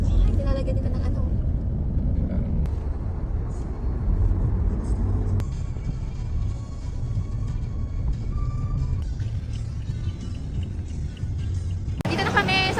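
Car engines rumble steadily and close by in a crowded concert parking lot, with muffled voices talking throughout.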